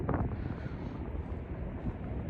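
Strong wind blowing outdoors near a football training pitch, buffeting the microphone with a constant low roaring rumble and gusty fluctuations throughout, loud and close, with no other distinct sounds.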